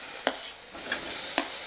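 Tomato dropped into spices roasting in a pan, giving a soft continuous sizzle broken by three brief scraping clatters of a spoon stirring.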